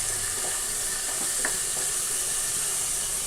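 Mint and chopped coriander leaves sautéing in hot ghee in a pan for ghee rice, a steady close sizzle with faint stirring scrapes, no voices.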